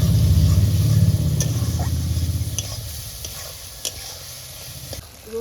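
Biryani masala of chicken, garlic and cumin paste sizzles loudly in a pan as it is stirred and fried, the crackle strongest at first and easing off, with a few light clinks of the spoon.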